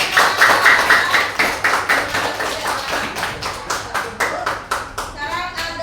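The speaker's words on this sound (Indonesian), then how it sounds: "Berikan tepuk tangan." A fifth-grade classroom claps hands together during a maths lesson: a steady run of sharp, rhythmic claps that carries on for several seconds, fairly close and loud, with no talking.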